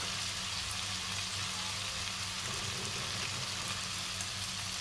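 Chicken sautéing in a covered pan for a restaurant-style green chilli chicken dish, a steady, even sizzle and crackle throughout with no talking.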